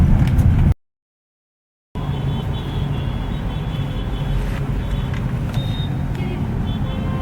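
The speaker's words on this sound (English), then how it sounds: "We are driving in Delhi city traffic and we are in drive mode." A Ford Fiesta automatic rolling through congested Delhi city traffic in drive mode, with a steady, loud cabin hum of engine and road noise, broken once by a brief total silence.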